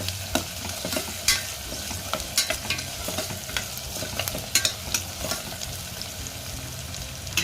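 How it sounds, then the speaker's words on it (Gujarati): Ginger, chili and garlic paste fries in a pan as sambar is made, a steady close sizzle broken by scraping stirs and small crackles, with no talking. "આદુ મરચાં અને લસણની પેસ્ટ ઉમેરીશું તેને એકાદ મિનિટ માટે થવા દેશું"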